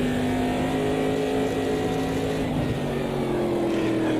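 A Chevrolet C3 Corvette in the Automobilista 2 racing game drones with a steady, loud engine note that holds and slowly shifts pitch as the car drives on, with no talking.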